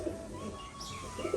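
A pigeon coos softly in a loft, a short low burble set against a faint background hum.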